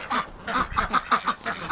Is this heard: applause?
no